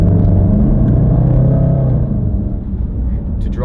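The 5.0 V8 of a 2016 Range Rover SVR gives a loud, steady low exhaust rumble while driving, easing slightly toward the end.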